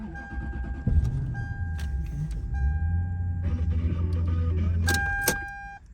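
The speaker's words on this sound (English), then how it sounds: "You can try to start the car." A Lexus engine being started after key programming, with a low steady idle rumble settling in after a brief cranking burst, accompanied by thin electronic beeps and tones from the dashboard, plus a sharp clicking burst near the end.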